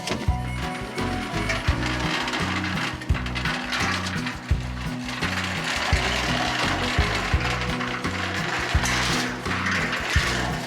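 A car jack under a vehicle is cranked, giving a steady repeating mechanical ratchet-and-gear clicking in an even rhythm, close and continuous with occasional sharper clacks.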